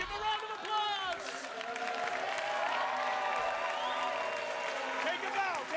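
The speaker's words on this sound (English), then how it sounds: "Give a round of applause!" Applause rises from an audience while excited voices shout and cheer over it, the clapping mixed under lively, overlapping talk throughout.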